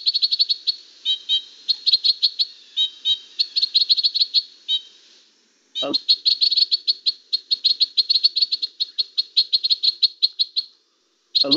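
Crossbill calls, a breeding flock in likely nesting habitat: a long series of quick, nasal, chirping notes repeated in rapid bursts. The calls are close and clear, broken by short gaps and two brief low thumps.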